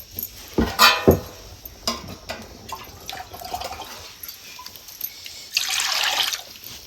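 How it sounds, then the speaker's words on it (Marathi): A few clattering knocks of utensils, then a short steady pour of water into a pot of black bean curry near the end. "मी अजून थोडंसं पाणी वाढवते"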